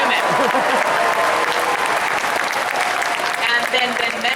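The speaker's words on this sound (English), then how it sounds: "let's applaud him," Loud, dense applause from a large Comic-Con panel audience for Marvel, many hands clapping continuously with crowd noise, while a voice is briefly audible at the start.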